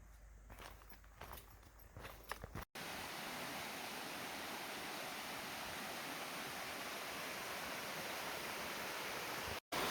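A clean river flows beside a campsite on the Appalachian Trail in Vermont, a steady loud rush of water that fills the scene after a few seconds of footsteps and rustling.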